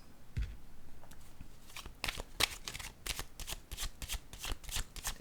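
Playing cards being shuffled up close, a soft riffle followed by a run of quick crisp bursts with short gaps between them, with no voices.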